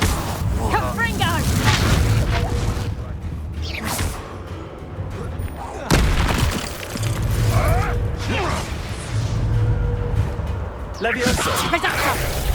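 A Confringo spell in Hogwarts Legacy lets off booming blasts and whooshing bursts. Heavy impacts and crashes recur through a busy game soundscape, with a voice talking at points.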